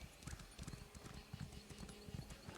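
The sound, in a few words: horse hooves galloping in the video game Elder Scrolls Online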